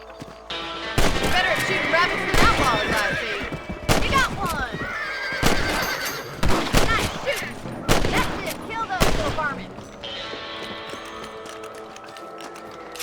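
Rifle gunshots ring out while shooting rabbits in the video game Red Dead Redemption: about half a dozen sharp, loud shots at irregular intervals, mixed with other game sounds including horse noises.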